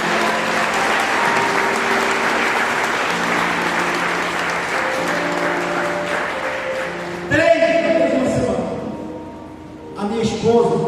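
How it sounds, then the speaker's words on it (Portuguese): A church congregation at a mission service applauds, a broad wash of many hands clapping that runs steadily under a voice, then gives way to louder nearby talk toward the end. "Quem pode aplaudir o Senhor Jesus"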